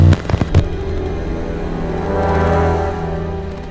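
Naval bombardment explosions from the D-Day Normandy landings as a documentary sound effect: a cluster of loud booming blasts at the start, then a rolling low rumble that swells and fades.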